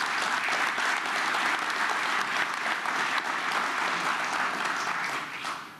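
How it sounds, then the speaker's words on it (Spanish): Sustained applause from an audience at the opening of a small-business week event, honoring local entrepreneurs; steady, dense clapping throughout that fades slightly at the end. "Un aplauso para ustedes, señores."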